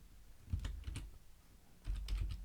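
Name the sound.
typing text on a computer keyboard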